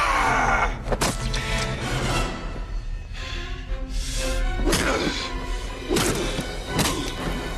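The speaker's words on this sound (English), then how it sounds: "all I'm doing is pounding wet chunks of bone into the floorboards" Heavy, irregular thuds and crashing blows of bone being pounded into wooden floorboards, loud and close, with whooshing movement between impacts.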